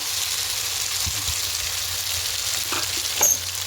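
Steady oily sizzling of ginger-garlic paste frying in a pan, continuous and fairly close, with a faint clink or stir near the end.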